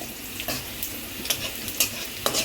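Panch phoron spices frying in oil before dal and ash gourd go in, a soft steady sizzle broken by several crisp stirring taps and scrapes against the pan.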